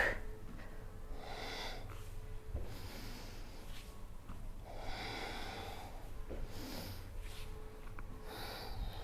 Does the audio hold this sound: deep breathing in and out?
yes